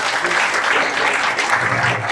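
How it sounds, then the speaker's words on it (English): An audience at a Christmas presentation claps steadily, a dense, even wash of applause filling the whole moment without pause. "give them a round of applause"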